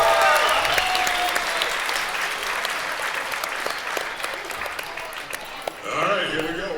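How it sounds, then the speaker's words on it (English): A crowd applauds at a live fight event: steady clapping, louder at first, easing off, then swelling again near the end, with some cheering and voices mixed in. "Give him a big hand of applause once again."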